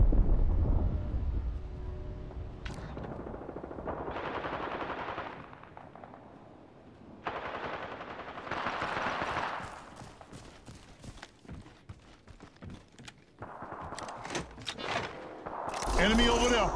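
Gunfire in the Apex Legends battle royale game, with repeated rapid bursts and single cracks, close and loud, separated by short pauses and mixed with rustling movement.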